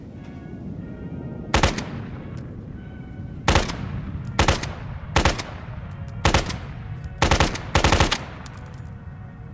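Full-auto rifle fire in ARMA 3 with the S.O.G. Prairie Fire DLC: seven loud, close, short bursts spaced about a second apart, each with a sharp crack and a ringing tail over low background noise.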